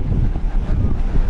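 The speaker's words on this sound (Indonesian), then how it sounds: "Anginnya tapi kencang juga teman-teman" Strong gusting wind buffets the deck of the passenger ship KM Kelud at sea, a loud, steady low roar that fills the whole moment with no voices.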